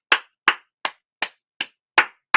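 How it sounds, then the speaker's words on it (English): Seven slow, evenly spaced hand claps ring out close and crisp during a lecture, each one sharp and separate with quiet gaps between. "Let's give Ms. Hickman a round of applause."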